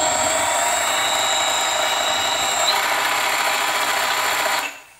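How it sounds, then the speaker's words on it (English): A 5/16 jobber drill bores into a workpiece on a Sieg mini lathe fitted with a brushless motor, producing a steady, loud whining drone with a high tonal whistle that stops abruptly near the end. "here we go with the jobber drill. This is 5/16."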